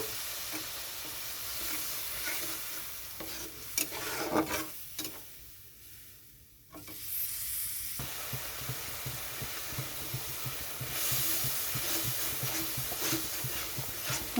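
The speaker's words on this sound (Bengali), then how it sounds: "তো এখানে আমার মশলাটা একটু কষানো হয়ে গেছে" Soaked spice paste being stir-fried with onions in a pan for a fish roe curry, a loud continuous close sizzle with scraping stirring strokes, briefly quieter midway before the frying noise returns.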